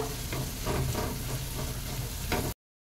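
Mashed rohu fish mixture with salt and turmeric stirred in a hot pan, a continuous sizzle with a few scraping strokes of the spoon, ending abruptly.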